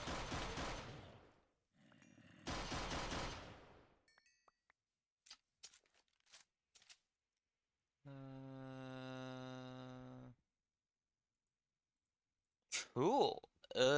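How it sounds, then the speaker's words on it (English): Gunfire bursts in a modded Minecraft survival game come as a broadband burst near the start, a second loud burst, then scattered sharp clicks and a sustained tonal buzz, ending with more noisy bursts. "I heard gunfire"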